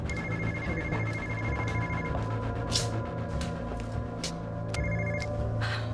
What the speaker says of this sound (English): Susanna Velasco is rushing to finish styling a client's hair when the phone rings